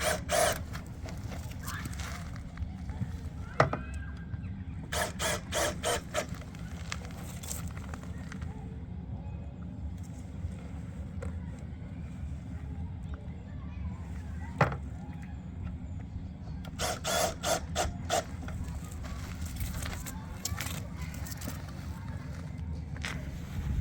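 A drill drives screws into aluminum trim over a window sill, with short bursts of whirring close by in two clusters, separated by handling clatter and someone talking.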